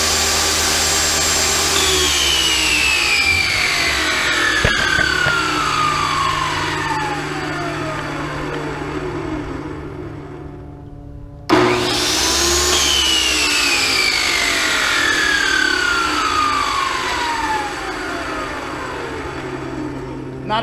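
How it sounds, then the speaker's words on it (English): A table saw runs on a DeWalt portable power station inverter. Its blade whines loudly and steadily, spins down in a falling pitch sweep, then starts up again and winds down a second time. Someone says a few words over it. "let's try a table saw here"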